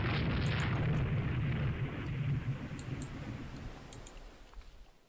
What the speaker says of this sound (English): Chansey has let off her own torpedo. It's also hit the enemy ship.